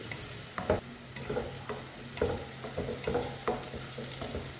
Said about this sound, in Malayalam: സവോളയൊക്കെ നന്നായിട്ട് ഇഞ്ചിയും വെളുത്തുള്ളിയൊക്കെ നന്നായിട്ട് വഴന്ന് വരണം